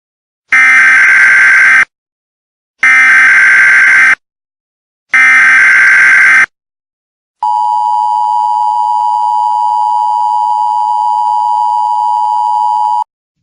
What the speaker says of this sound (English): The emergency alert system has been activated.